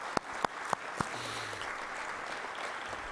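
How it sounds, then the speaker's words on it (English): Applause for an honoree at the All-Atlantic 2021 ocean research conference: a few sharp separate claps open, then a steady, fairly faint wash of clapping fills the rest. "A great applause to Siggy."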